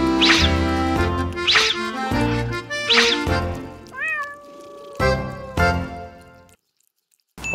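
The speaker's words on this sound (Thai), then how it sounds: "อันนี้คือแมวราคาหลักล้าน2ตัว" Two large, pricey cats meow loudly and close, a run of repeated drawn-out cries in quick succession that then trails off into silence.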